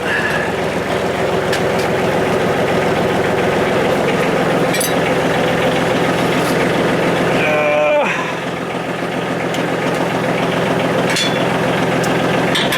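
A brand new engine on a tractor-mounted leaf sucker machine runs steadily at idle, a loud continuous mechanical drone with rhythmic knocking, briefly dipping in pitch and level near the middle before settling again.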